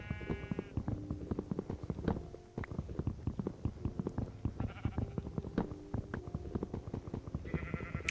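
Minecraft sheep bleat repeatedly in short nasal calls, several overlapping at irregular intervals, mixed with soft thuds and clicking sounds of play, fairly close and unaccompanied by speech.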